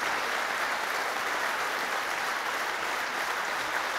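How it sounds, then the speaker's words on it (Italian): Audience applause after a literary reading at a comedy and theatre festival, steady dense clapping filling the room, sustained and even throughout. "Sintetici anche voi, sintetici nell'applauso."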